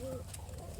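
Racing pigeon of the Trichy breed gives a brief, soft coo, a single short low call close to the microphone against faint background noise.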